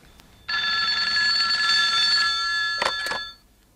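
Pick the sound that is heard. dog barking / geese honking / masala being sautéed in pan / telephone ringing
telephone ringing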